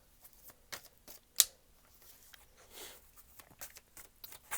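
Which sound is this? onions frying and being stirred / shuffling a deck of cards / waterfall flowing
shuffling a deck of cards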